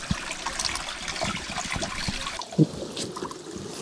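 A small waterfall trickles inside an underground soil pipe: a quiet, continuous patter and splash of falling water, with one brief louder knock or drip partway through.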